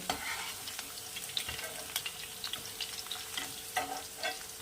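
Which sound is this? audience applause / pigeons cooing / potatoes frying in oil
potatoes frying in oil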